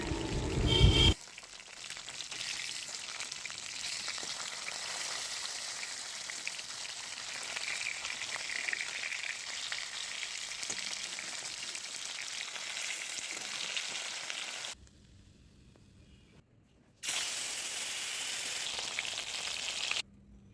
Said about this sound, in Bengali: তেলটা গরম হয়ে গেছে, তার মধ্যে একে একে মাছের পিসগুলো দিয়ে ভেজে নিচ্ছি।